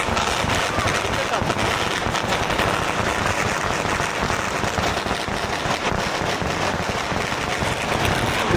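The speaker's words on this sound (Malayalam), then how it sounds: "1 മണിക്കൂറായി വെടിക്കെട്ട് തുടങ്ങിയിട്ട്." At the torch festival night in Dali, China, a relentless barrage of firecrackers and fireworks crackles and pops without pause, loud and close, with crowd voices buried in the din.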